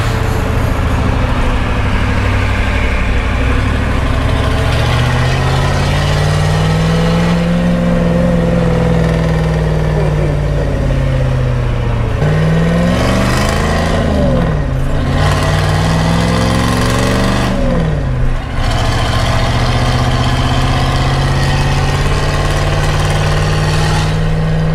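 A 1983 Ford F-350 truck cruises in fourth gear at about 55 mph, its steady mid-pitched engine drone loud and continuous, with brief dips and rises in pitch from shifting load, and no voices.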